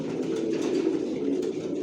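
Adult racing pigeons coo in a loft, soft low throaty murmurs overlapping closely in a continuous warbling chorus.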